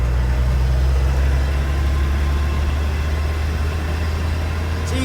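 A 1974 Ford F-250 Ranger SuperCab engine pulling steadily while cruising cold at around 30 mph, a loud, continuous low rumble from close by with no talking.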